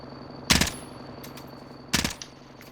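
Two short, loud bursts of automatic gunfire, about a second and a half apart, ring out close up in the battle royale game Call of Duty Warzone, with quiet background ambience between them.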